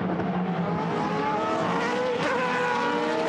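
Formula V8 3.5 race cars at Paul Ricard circuit scream past in a sustained, loud engine howl, rising and shifting in pitch as they run nose to tail through a corner sequence, with no talk over them.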